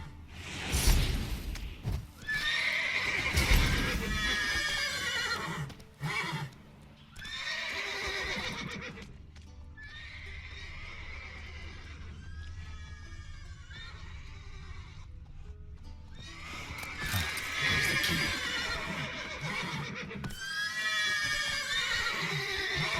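Horses in The Witcher 3 neigh and whinny repeatedly, with clip-clop hoofbeats in between. The loud, bright whinnies come in bursts at the start and near the end, with quieter stretches of game ambience between them.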